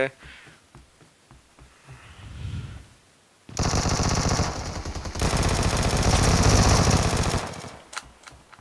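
An enemy fires on the player in a PUBG Mobile Arena Evo gun game on the Library map: sustained, loud automatic bursts fill the middle of the clip, with quieter gameplay sounds before and a short tail after.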